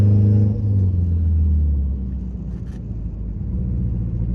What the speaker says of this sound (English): this turbo makes some pretty cool sounds